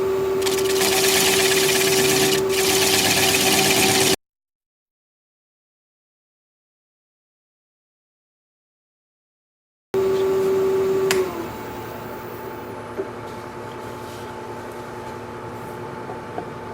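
A 3/8-inch bowl gouge cuts a fir bowl on a wood lathe, giving a loud, steady whirring hum with a strong tonal whine, broken by a long silent gap, then resuming more quietly.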